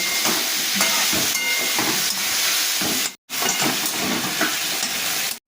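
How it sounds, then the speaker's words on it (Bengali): Ginger and green chillies sauté in a hot pan, giving a loud, steady sizzle and hiss with scraping stirs throughout; it cuts out briefly near the middle and then resumes. "আদা কাঁচা লঙ্কা দিয়ে আমি এটা খানিকক্ষণ কষিয়ে নেব"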